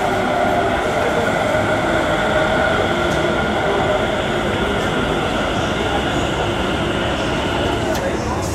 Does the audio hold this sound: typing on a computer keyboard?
no